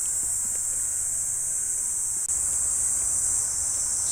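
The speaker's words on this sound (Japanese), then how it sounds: "蝉が鳴いてます" Cicadas drone in a steady, loud, continuous high buzz at a seaside Shinto shrine in July, filling the air without pause and with no talk over it.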